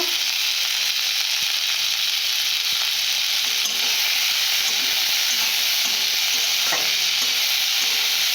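Onions frying with a pinch of salt in a pan, a loud, steady, close hiss of sizzling oil with faint scraping taps of a stirring spoon and no talk.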